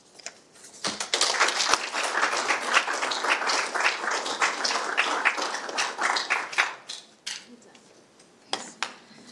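Audience applause after a talk on Richmond's shoreline and industrial legacy, a dense burst of many hands clapping, loud and sustained for several seconds before thinning out to a few scattered claps at the end.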